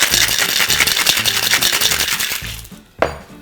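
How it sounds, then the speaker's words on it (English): A cocktail shaker holding an agave margarita with ice rattles hard and fast, ice churning inside, loud and close, then stops abruptly followed by a short clack. "Cover and shake for about 15 seconds."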